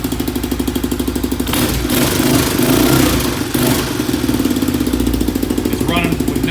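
A 1985 Honda Big Red three-wheeler with a tuned carburetor runs close by, with a steady rhythmic idle that swells into a louder rev and then settles back to idling, while someone talks over it.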